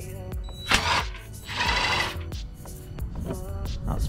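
RV scissor jack being cranked with a 3/4 inch socket under a horse trailer, giving quiet ratcheting metal clicks and a short grinding stretch, with scattered clanks close by.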